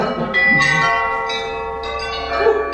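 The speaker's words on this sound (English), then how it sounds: "let us try and ring that bell, but just once" A bell rings with a sustained metallic tone, struck a few times with the resonance hanging between strikes, clear and fairly close.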